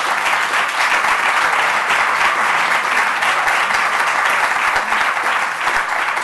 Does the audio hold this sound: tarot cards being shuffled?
no